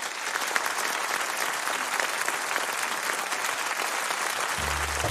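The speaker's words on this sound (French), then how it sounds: "applaudissements" Steady, dense applause from a live concert audience, loud and unbroken throughout, with a low tonal sound entering right at the end.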